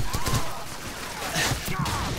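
Gunfire in Call of Duty 4: Modern Warfare, a rattle of rapid shots in short bursts, fairly loud and mixed with other battle noise and someone talking.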